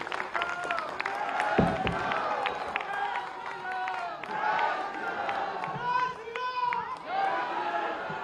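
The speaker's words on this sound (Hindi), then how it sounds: "एक बार जोरिया तालियां बजाकर सबका स्वागत करें।" Crowd at a farmers' fair clapping and cheering to welcome the Uttar Pradesh chief minister, dense and steady throughout, with voices shouting and calling over the applause.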